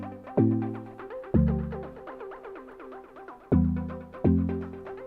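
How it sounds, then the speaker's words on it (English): Synthesizer chords built in Sylenth1 play with an arpeggiator, minor and major chords moving up, sounding as rapid bright pulsing notes over four fresh chord strikes with decaying swells. "And with the ARP, the chords sound like this."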